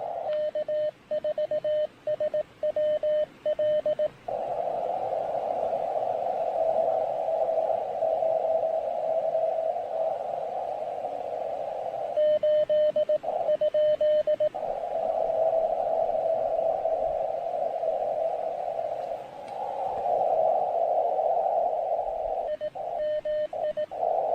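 A steady radio tone keys on and off in Morse code sending a CQ call on a low-power 3-watt MTR-3B amateur radio, short choppy bursts at first then long sustained stretches, over faint static hiss.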